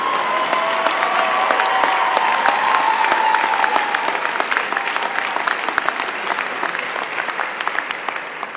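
Sustained, loud applause from a commencement audience honoring a speaker, dense continuous clapping filling the hall and slowly easing toward the end.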